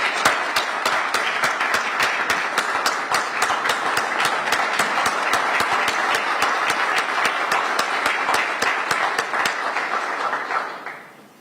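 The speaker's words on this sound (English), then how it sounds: "So I want to give Wayne a round of applause," An audience at a sergeants' leadership course graduation ceremony claps for a long stretch, a dense crowd of hands with a few loud, close, sharp individual claps on top, holding steady before fading out at the end.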